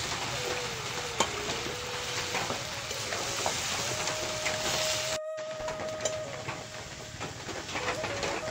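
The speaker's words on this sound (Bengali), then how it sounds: "এবার নাড়াচাড়া দিয়ে দিয়ে শাকের জলটা টানিয়ে ভাজা করে নেব।" Water spinach with shrimp is stir-fried in a pan as a village-style chorchori and cooks until its water dries off. A constant soft sizzle carries a few stirring clinks, with no talk.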